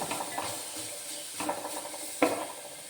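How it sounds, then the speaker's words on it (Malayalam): Vegetables stirred in a pan as they cook down and wilt, a low sizzle running underneath with a few scraping clinks of the spoon against the pan. "ഇനി ഇത് നന്നായിട്ടൊന്ന് വാടി കിട്ടുന്നിടം വരെ ഇളക്കി കൊടുക്കണം"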